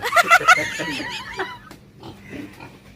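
A pig on a farm, kept for breeding, gives a burst of loud, rhythmic oinks and squeals close by, then quieter grunting and farm background noise follow.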